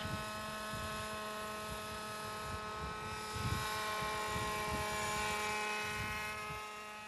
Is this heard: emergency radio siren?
no